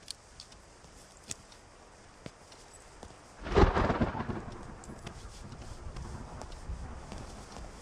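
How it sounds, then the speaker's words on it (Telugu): A single heavy thunderclap rumbles through a rainstorm partway in, swelling loudly and then rolling off into a steady, fairly close wash of falling rain with no talking. "వర్షం ఇప్పుడప్పుడే తగ్గేటట్లేదు"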